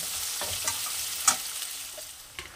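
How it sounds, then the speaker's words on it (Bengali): Oil crackles and sizzles as chopped onions fry, with a few sharp clicks of a utensil stirring the pan. "পেঁয়াজটাকে আমি ভালো করে ভেজে নেব"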